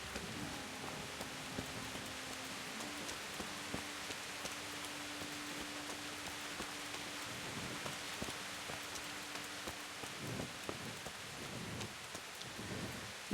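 Rain pouring in the medieval game Kingdom Come: Deliverance, a faint, even hiss with scattered drops, under a low sustained tone, with no voices heard.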